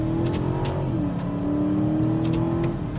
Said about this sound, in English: when I shove it in sport, the V8 starts to really sing